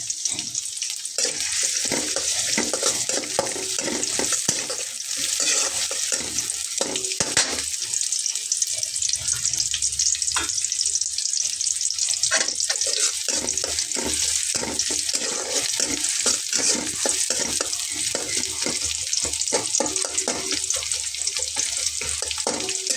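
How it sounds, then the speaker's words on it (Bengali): Chopped onion and whole garlic cloves sizzle steadily in hot oil in a pan, a constant close frying hiss with scattered crackles and occasional scraping of a utensil, no voices. "পেঁয়াজ রসুনটাকে একটু লাল করে ভেজে নিয়ে তুলে ফেলতে হবে।"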